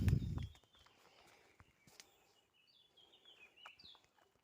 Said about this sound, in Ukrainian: І ми замітили, що тут є дві пташки, не знаємо, що це таке, але одна за одну перекликується.